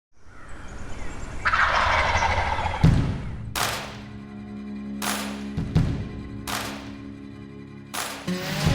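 Wild turkey gobbles ring out loud and close, a rattling burst followed by several sharp repeated calls in quick succession with echoing tails.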